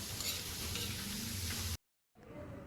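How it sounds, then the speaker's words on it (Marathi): Sliced onion frying in a pan for a Goan tomato dish, a dense, steady sizzle that cuts out abruptly, then returns more faintly after a brief silence. "उभा चिरलेला कांदा घातला"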